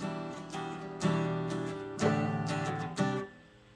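Acoustic guitar chords strummed in short bursts, each chord struck and then cut off, about one per second, close and clear.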